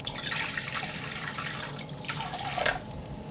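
Water is poured onto a tarantula's web, giving a soft, close trickle and patter of liquid with a few drips. It runs continuously at low to moderate level and swells briefly near the end, with no speech.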